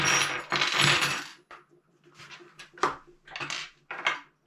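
Small metal accessories for a Parkside POF 1200 router, including wrenches and parallel-guide pieces, clatter and clink as they are handled, a loud jangle at first followed by scattered separate clicks and knocks.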